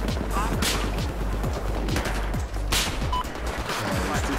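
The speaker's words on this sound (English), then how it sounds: "Not one of them bullets hit him!" Battlefield 4 gunfire on the Flood map, rapid dense shots and bursts crackling continuously at close range, with players talking over the shooting.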